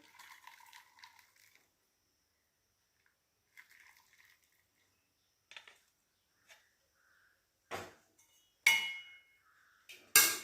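Boiled pepper and cumin kashayam strained from a metal pot, with scattered clinks, taps and short liquid splashes separated by quiet gaps, growing louder near the end.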